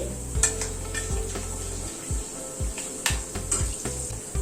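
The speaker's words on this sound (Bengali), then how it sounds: "ওই তেলে হাফ টিস্পুন মেথি ফোড়নে দিলাম" Half a teaspoon of fenugreek seeds sizzle in hot frying oil left from frying fish, flame turned very low, a steady crackle with metal spoon clinks and stirring scrapes close by.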